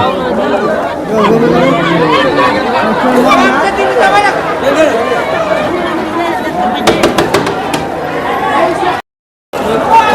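Dense, loud babble of many voices fills a crowded Howrah railway station, steady throughout with footsteps and clatter mixed in, a burst of sharp clicks near the end, then a sudden second of silence.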